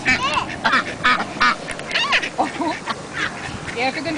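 Hungry ducks quack excitedly at close range while eating graham crackers, a busy overlapping burst of calls through the whole moment.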